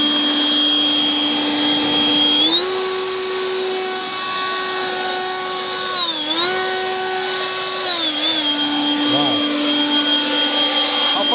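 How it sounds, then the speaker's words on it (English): An ECHO 58V battery-powered leaf blower runs with a loud, steady high-pitched whine that jumps up in pitch when turbo mode kicks in, dips briefly twice, then settles back lower, close and constant throughout. "This has turbo, so when you hear this, that's turbo, this is regular."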